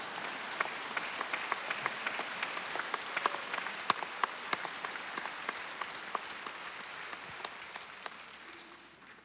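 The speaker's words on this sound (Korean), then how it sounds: "아니 근데 아무리 그러셔도 박수를 한번 치셔야 될 것 같은데." A seated audience at a senior Christian mission conference gives a round of applause, a moderately distant crowd clapping steadily throughout, with sharp individual claps standing out and fading slightly toward the end.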